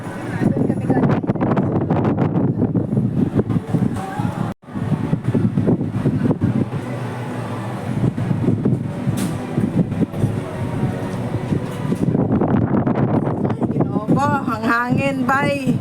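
Strong wind roars continuously past a moving amusement park ride at Ocean Park, loud and buffeting throughout, with people talking and shouting over it and a brief dropout partway through.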